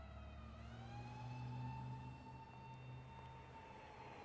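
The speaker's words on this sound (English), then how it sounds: "I heard sirens, and I basically went like, is that in-game or outside?" Sirens in the horror video game Death Mark 2, a faint, wavering wail rising and falling over a low engine-like drone, distant and steady with no voices.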